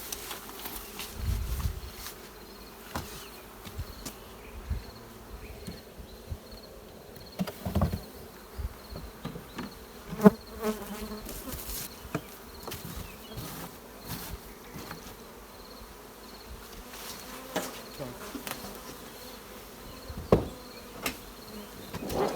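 A low, continuous buzz of many honey bees around a hive, with scattered knocks and thumps of handling frames close by.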